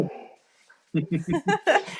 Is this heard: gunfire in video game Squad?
no